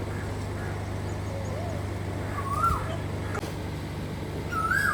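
A rooster crows faintly in the distance, a couple of short rising calls over a steady low hum and background noise.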